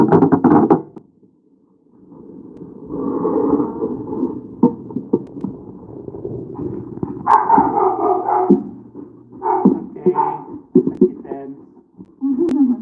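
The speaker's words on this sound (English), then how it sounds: "she will be the big dog voice." A dog gives deep, alarmed barks at intervals, mixed with people talking nearby throughout.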